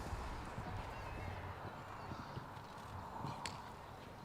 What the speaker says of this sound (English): You can see how comfortable this horse is jumping this course